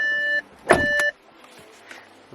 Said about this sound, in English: So as the car is now just lowering itself